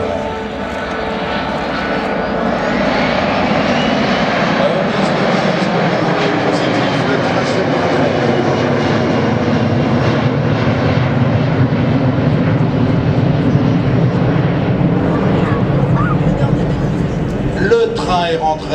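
A Boeing 737 climbing with gear retracted gives a steady, loud, broadband engine roar that holds level for the whole stretch as thrust builds, heard from the cockpit.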